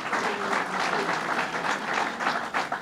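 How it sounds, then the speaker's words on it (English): Audience applause fills a community center hall after a governor's announcement, a steady dense clatter of many hands clapping at moderate volume throughout, with no talk over it. "Let's give him a round of applause."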